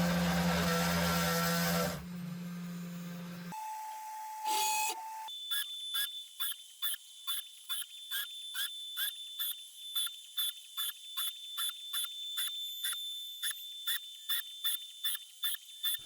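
A CNC machine with a 1.5 kW spindle runs a G-code job on a new Z-axis platform: a steady motor tone first, then a high spindle whine broken into a long, regular series of short repeated cutting bursts.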